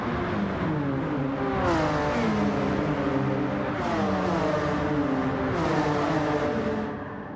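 Race car engines in a driving video game, Group 4 cars including a Genesis G70 and a Mazda 3 at Watkins Glen, hold a steady loud roar with repeated rising pitch sweeps as the cars accelerate out of corners, with no talking.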